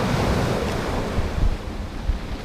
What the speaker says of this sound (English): wait for the waves to come in and then draw out